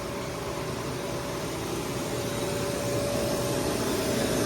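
A 2014 Agricola pneumatic seed drill sowing onions in a field runs with a steady, loud mechanical drone carrying a constant whining tone, growing slightly louder over the span, with no voices.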